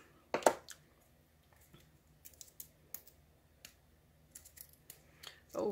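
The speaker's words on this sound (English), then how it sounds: "I'll just use a little more scissor help here, if possible." Scissors snip and click while cutting open an Artza Box subscription box with cards inside, giving a few short sparse cuts with small taps between them and a louder snip at the start and end; nobody speaks.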